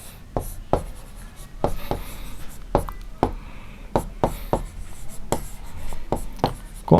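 Pen scratching across paper as an answer is written by hand, with sharp taps and strokes at uneven intervals over a low steady background, close and fairly loud, no talking.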